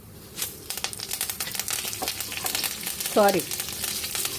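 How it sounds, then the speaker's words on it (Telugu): Dried red chillies, garlic and curry leaves frying in hot oil give a steady close sizzle with crackling pops and a brief scrape of stirring, with no talk. "ఎండుమిర్చి అండ్ కరివేపాకు వేసి ఈ ఎండుమిర్చి వేగే వరకు 1 సెకండ్ అలా ఉంచాలి."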